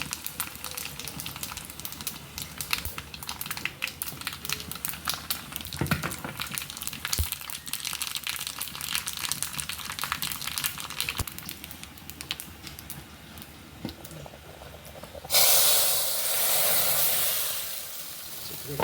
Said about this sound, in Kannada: ಭಕ್ಷ್ಯಕ್ಕೊಂದು ಒಗ್ಗರಣೆ ಹಾಕೊಂಡು ಬಿಡುವ.